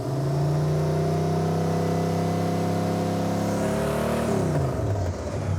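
A Camaro V8 fitted with a new HEI distributor runs close and loud, its rich steady engine note holding a rumbling idle-to-rev tone before the pitch drops and eases off near the end.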